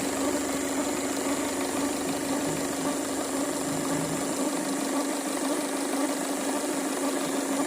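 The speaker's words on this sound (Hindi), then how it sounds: "गाड़ी पिकअप ड्रॉप कर रही है और नॉकिंग कर रहा है इंजन" A Ford Figo diesel engine idles with a knock and loses pickup: a steady, loud, even idle drone with a continuous rattling knock, running alone without any talk.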